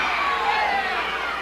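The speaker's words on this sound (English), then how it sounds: "the crowd at ringside is going nuts" Ringside crowd at a Portland professional wrestling show shouting and roaring in a steady, dense wash of voices, loud and continuous with no single voice standing out.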